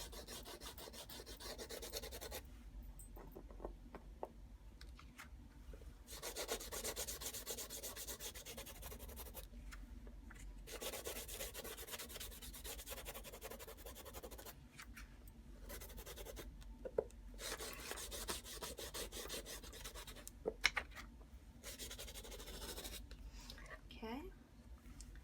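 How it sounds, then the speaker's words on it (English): The edge of a wet photo print is sanded in soft, close, repeated rasping strokes that come in several bursts separated by short pauses. "I'm going to bring it back and then sand my edge."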